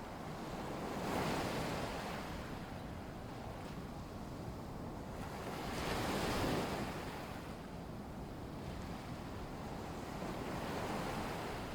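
Waves lapping at a lagoon shore, a steady wash of surf swelling gently every few seconds under soft wind noise, continuous and fairly close, with no voices.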